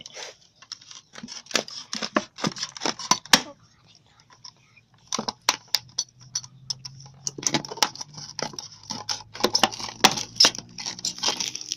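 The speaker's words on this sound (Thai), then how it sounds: "คัตเตอร์ขีดเข้าไปเลย" A utility knife blade scoring and slicing into a plastic bottle for a chicken feeder, giving sharp close crackling snips and scrapes in irregular bursts, with a short lull midway and faint low murmuring underneath.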